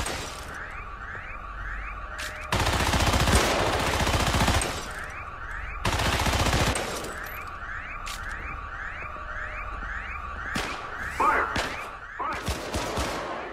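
Defense turret gunfire in the video game Syndicate, with long loud bursts of rapid automatic fire broken up by quieter stretches of repeating electronic chirps and beeps.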